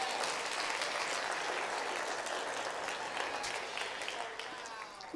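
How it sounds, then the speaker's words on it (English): A church congregation claps together in sustained, dense applause during a Rosh Hashanah service, holding steady for several seconds before thinning slightly at the end. "Let's give the Lord a clap offering for that one."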